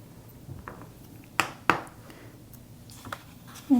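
Scissors snip through a small piece of tape while a pocket sketchbook is being made: two sharp, close cuts in quick succession, then a few fainter clicks in a quiet room.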